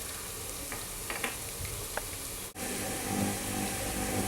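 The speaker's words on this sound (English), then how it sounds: "Now we'll saute it again for 2-3 minutes" Crushed ginger sauteing in a pan for rogan josh, a steady close sizzle and crackle with faint stirring scrapes, briefly dipping before carrying on, with no talk.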